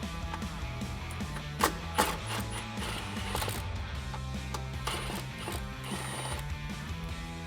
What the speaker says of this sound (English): You'll need an 8mm socket to remove that bolt.